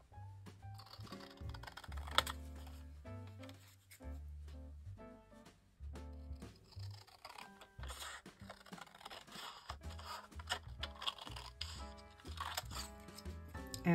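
Card stock panels for a vintage Christmas pop-up box card being cut, a close run of crisp snips and paper scrapes in an uneven rhythm, with no one speaking.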